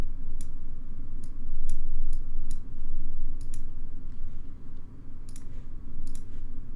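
A computer mouse clicks while a mask is drawn with the pen tool in After Effects, giving about a dozen sharp, close clicks at irregular intervals over a low room hum.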